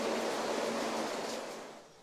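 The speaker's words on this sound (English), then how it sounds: "Now there on the left you can see a water wheel, and this is known as Turner's Paddock Water Wheel" Water pouring at Turner's Paddock Water Wheel, Stourhead, a steady splashing rush that fades out over its final half-second, with no talking.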